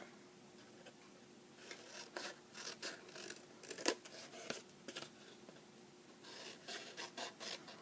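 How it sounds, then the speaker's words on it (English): Paper snips cut along score lines in paper, making a series of quiet crisp snipping and rasping sounds at an uneven pace, with no talking. "I'm going to take my paper snips and set it on the score line and simply cut between the 2 score lines"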